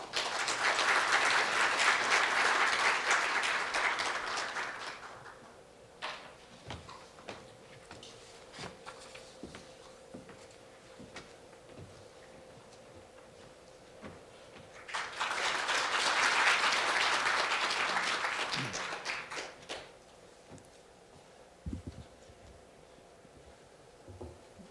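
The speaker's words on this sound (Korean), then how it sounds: "큰 박수로 부탁드립니다." Audience applause at a university forum on the future of higher education, rising in a dense wash for about five seconds, fading to scattered rustle and small knocks, then swelling again in a second burst before dying away.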